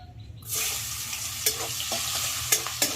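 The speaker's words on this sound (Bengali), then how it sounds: "তো আগে এই মাছ ভাজার তেলে পেঁয়াজ কুচিটা দিয়ে দেবো।" Chopped onion dropped into hot oil left from frying fish bursts into a loud, steady sizzle, with a few sharp clinks of a utensil against the pan.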